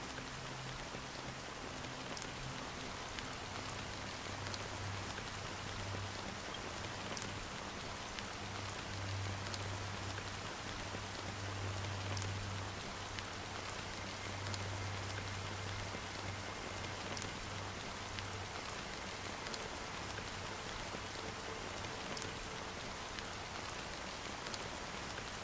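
Steady rain patters across a surface in the video game Honkai: Star Rail, a continuous wash of drops with a faint low hum underneath, no voices.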